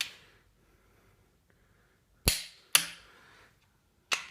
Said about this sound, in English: More torque, louder click.